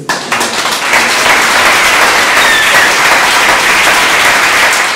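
Church congregation applauding and acclaiming God, a steady wash of dense clapping and cheering that stays loud and sustained throughout.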